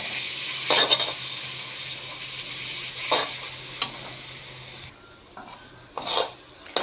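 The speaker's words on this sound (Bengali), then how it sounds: "আমি এটাকে ক্রমাগত নেড়ে ভাজা ভাজা করে নেব" A date and raisin paste fries in ghee while a utensil stirs it continuously, giving a soft steady sizzle broken by scraping strokes and a few sharp metallic clinks against the pan.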